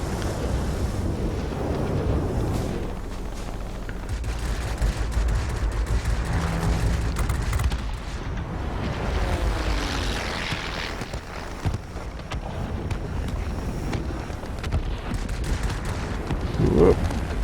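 Aircraft gunfire from the Fw 57 in the War Thunder video game: dense, rattling bursts of shots over a steady engine roar, loud and continuous throughout.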